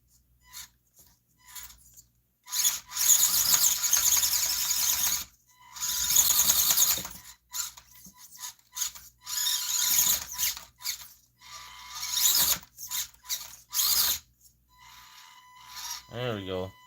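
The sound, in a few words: RC crawler motor whining while crawling over indoor obstacles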